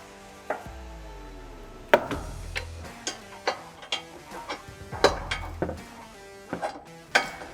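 A ratchet with a 10mm socket tightens bolts while fitting a SuperATV front bumper on a Can-Am Defender, giving close, sharp metallic clicks in irregular bursts with brief ringing, and no talk.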